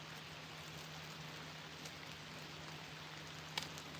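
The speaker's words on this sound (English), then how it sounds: "this rain better stop because walking back is gonna suck" Steady, faint rain patters outdoors beside the Wisconsin river, a continuous soft hiss with no voices and one small tap near the end.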